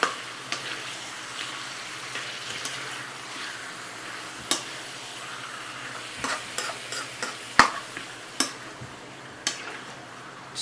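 Chicken curry being stirred in a pan, a steady close sizzle with repeated sharp scrapes and clinks of the utensil against the pan.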